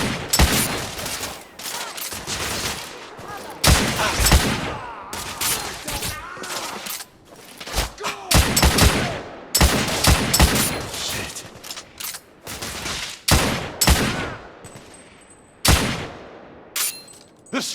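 Heavy gunfire rattles in dense, loud bursts with brief gaps across a fierce firefight in The Order: 1886 video game, some shots sharp and close, others trailing into short echoes.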